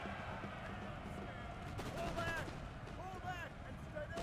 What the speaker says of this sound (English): Unloading all these musketeers.